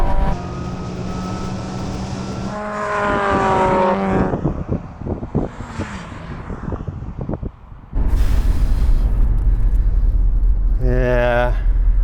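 Two supercharged Mazda Roadsters, an NC and an NB, run a drag race, their engines roaring and rising in pitch through gear changes, with crackling pops and a loud rumbling pass late on; voices talk excitedly over the noise.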